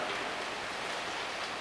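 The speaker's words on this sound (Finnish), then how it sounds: "on aika ihan rankka sade on menossa" Heavy rain pours steadily outdoors in Outokumpu, Finland, a dense, even hiss of drops on surfaces with no letup and no voices.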